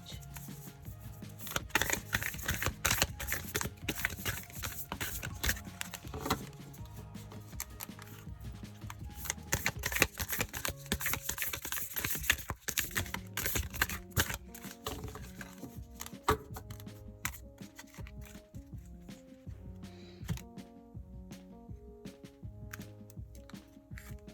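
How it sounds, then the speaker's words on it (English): A Lover's Oracle card deck is shuffled close up for about twenty seconds, giving a steady, dense patter of riffling and sliding card clicks with no voices. "We'll shuffle, and if a card comes out, a message comes out, we'll take it."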